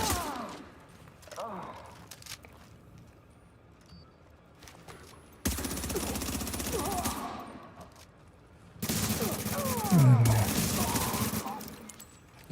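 Automatic gunfire in The Division, coming as two sustained bursts of rapid fire of several seconds each, separated by quieter stretches with scattered game sounds.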